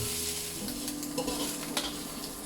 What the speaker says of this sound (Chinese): 放几个干辣椒，放入切好的酸菜，简单翻炒几下